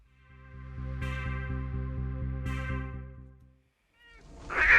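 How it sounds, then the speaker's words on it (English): A cat meows in the 1989 film Warlock, a long, loud, drawn-out wail with a pulsing tone, followed by a brief rustling noise. "Why is he putting this cat in a basket?"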